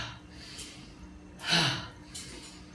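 A deep audible exhale during yoga breathing, one soft breathy rush rising and fading near the mic, with fainter breaths around it and no talking.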